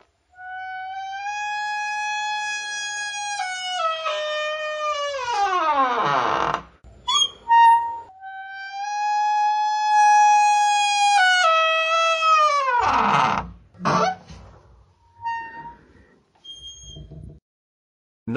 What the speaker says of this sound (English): Extremely squeaky door.